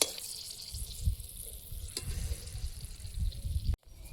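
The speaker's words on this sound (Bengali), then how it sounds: "আলু ভেজেছি, ওই তেলেই মাংসটা বসিয়ে দেবো একেবারে" Meat frying in the same oil used for potatoes, with two dry red chillies in the pan, makes a close, steady sizzle with scraping stirs, fading near the end after a brief cutoff.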